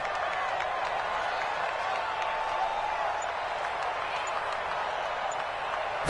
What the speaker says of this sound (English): Let's calm the crowd.